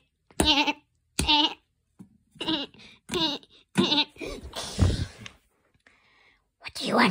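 Several short, buzzy bleats from a sleeping sheep in Minecraft come in quick bursts with pauses between, up close, along with a breathy noise and a brief click.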